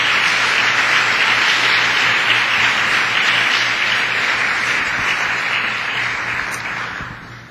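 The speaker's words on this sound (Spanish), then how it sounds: "¿Por qué no das un aplauso al Señor?" A church congregation bursts into loud, sustained applause. Many hands clap in a dense, continuous roar with a low hum beneath, easing off slightly toward the end.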